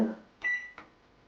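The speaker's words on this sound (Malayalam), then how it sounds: "5 മിനിറ്റ് വെച്ച് ഓൺ ചെയ്യുക" Two short electronic beeps from a microwave oven's keypad as a five-minute timer is set in microwave mode to roast peanuts, clear and close, a brief pause between them, with a softer rustle just before.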